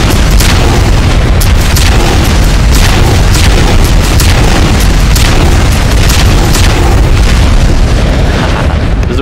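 Deep, heavy booms from objects being blown apart in the VR game Gorilla Tag fill the whole stretch, loud and continuous, with repeated bursts piling on one another without a break.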